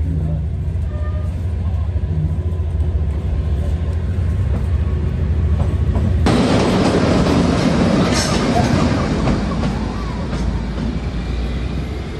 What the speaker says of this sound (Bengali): ট্রেনটা কিন্তু টয় ট্রেন হওয়া সত্ত্বেও এমন কিছু আসতে যায় না, কিন্তু ভালোই জোরে যায়